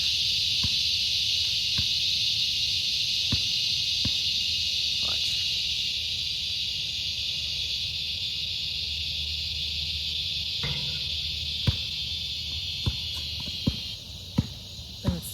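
Grasshoppers outdoors keep up a loud, continuous high shrill chirring that holds steady and then cuts off abruptly near the end, with occasional sharp knocks and clicks nearby.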